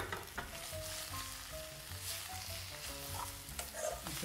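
Paneer and baby spinach sizzle and spit in a hot pan, a close, continuous crackling hiss with faint scattered knocks from stirring.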